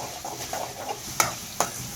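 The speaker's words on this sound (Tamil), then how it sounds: "இங்கே அப்படியே நல்லா கிளறி விடணும்" Onions sautéing in a pan, a soft continuous sizzle with a few sharp spatula scrapes, close up and fairly quiet, no voices.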